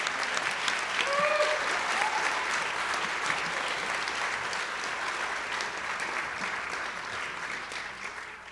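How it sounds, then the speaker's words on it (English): Audience applause at a school board meeting, a sustained burst of clapping from a room full of people that holds steady and slowly tapers, with a few faint cheers or whistles near the start. "A round of applause for her."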